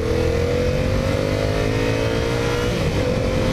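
A Yamaha MT-07 motorcycle riding on roads in Thailand, its engine droning loud and continuous from close by, the pitch holding steady and then shifting as the rider changes speed.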